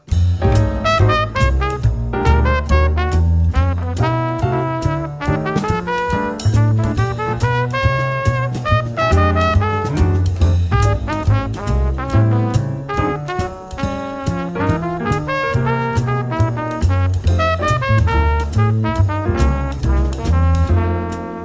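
An improvised jazz solo on a keyboard, busy and uneven over a walking bass line, with notes tumbling in irregular, awkward runs and no vocals.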